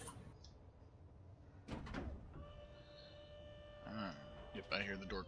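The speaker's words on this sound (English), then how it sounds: "Yep, I hear the door closing." In the Star Citizen video game, a Drake interplanetary spacecraft door slides shut with a mechanical whir and clunk, followed by electronic tones and hums, while a person talks over it.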